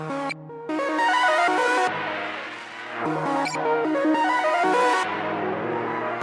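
A bright synth lead plays a stuttering melodic line with choppy, glitchy cuts and layered effects, loud and upfront throughout.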